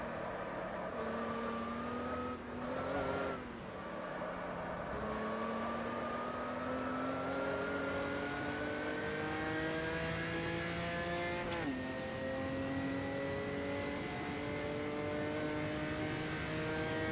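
Old school V8 race cars roar around a circuit, one loud engine droning steadily with rising pitch through gear changes, a brief lift and shift near the start and another sharp gear change midway.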